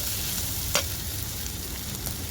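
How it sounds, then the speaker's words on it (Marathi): Chaiche vel, a wild vegetable, sautéing in oil in a pan, a dense steady hiss of frying with one sharp scrape of stirring near the start, close and even throughout. "ही भाजी ना तेलातच अशी परतून घ्यायची"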